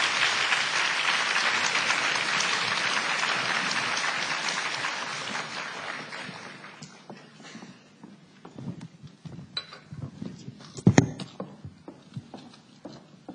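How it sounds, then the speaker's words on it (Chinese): Audience applause at a book fair event, a dense steady clapping crowd that fades after about six seconds into scattered claps and room murmur. "俾啲掌声我哋"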